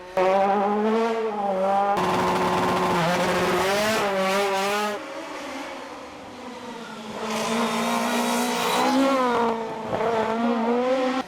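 Race cars at the Dolé hill climb in Gourbert, Guadeloupe, part of the Guadeloupe car championship: loud, close engines rev hard and shift up through the gears in rising, falling sweeps, one pass fading before another roars in.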